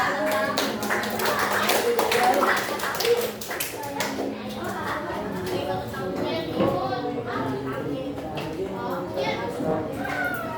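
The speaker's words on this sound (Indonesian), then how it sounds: "Makasih Nata, tepuk tangan buat Nata." Applause from a small group of students in a school classroom, with clapping mixed among children's voices and chatter, fairly close and steady throughout.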